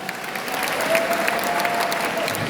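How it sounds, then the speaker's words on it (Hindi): Audience at the final of a North Zone inter-university kabaddi championship claps steadily, a dense close wash of applause filling the moment with no voices. "जोरदार तालियां बजाएं"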